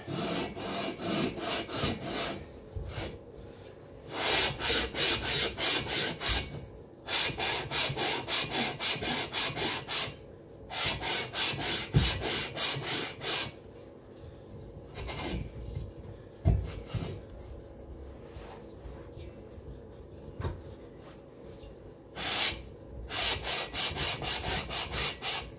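Cox 1600 engine cylinder barrels are lapped onto their heads with paste in a workshop, giving steady rhythmic rasping and rubbing strokes in close bursts separated by short pauses.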